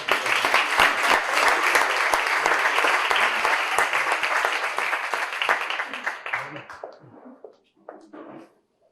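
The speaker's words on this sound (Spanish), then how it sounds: "Yo quisiera pedir, antes de irnos, un aplauso para el presentador." Audience applause at a poetry recital in Sierra de Yeguas, a dense, loud burst of many hands clapping that holds steady for several seconds, then thins into scattered claps and fades out.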